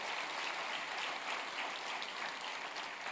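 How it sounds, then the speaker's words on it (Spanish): A church congregation applauds, a dense, steady wash of many hands clapping at moderate level for about three seconds, with no voices rising above it. "Denle un aplauso"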